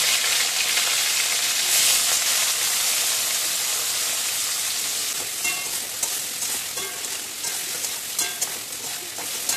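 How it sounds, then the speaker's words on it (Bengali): Prawns fry in hot oil with a steady, dense sizzle and occasional stirring scrapes, close and loud throughout, easing slightly toward the end. "তেল গরম করে চিংড়ি মাছটা ভেজে নিচ্ছি।"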